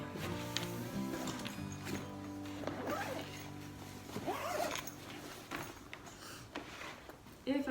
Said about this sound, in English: it just zips down until you hit the 2 sides, so it is not a full open